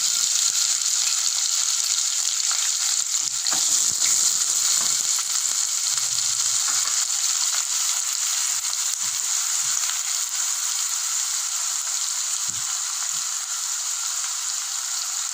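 Two large chopped onions frying in oil with already softened garlic for tomato thokku, a steady bright sizzle that fills the whole stretch, with occasional soft stirring knocks and no talking.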